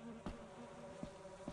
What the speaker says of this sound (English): You angered the bees. Oh, the bees.